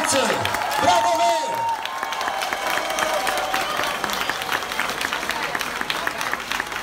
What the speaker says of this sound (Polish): Brawa dla całej Łodzi, słuchajcie, jesteście wielcy! Brawo wy!